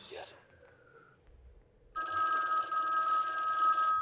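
A telephone ringing in the film The Matrix: a bright electronic ring sets in halfway through and holds steady, following a brief whoosh and a quiet stretch.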